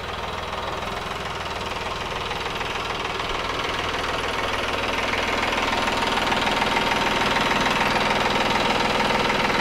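A new tractor idles as it pulls up, its engine running with a steady knocking rumble that grows slightly louder as it nears, with no one talking.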